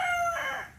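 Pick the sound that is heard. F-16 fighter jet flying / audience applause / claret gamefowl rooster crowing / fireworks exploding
claret gamefowl rooster crowing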